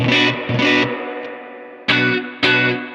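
An early-1960s Fender Stratocaster chord on the neck pickup rings out with a warm, slightly distorted tone, struck several times and left to sustain between strums, close and loud.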